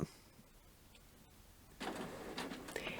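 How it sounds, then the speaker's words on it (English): A home printer starting up on its own in a crafting room, heard as a quiet lull that gives way to a sudden mechanical whirring and clattering rise lasting to the end. "Yep, my printer just starts up on its own"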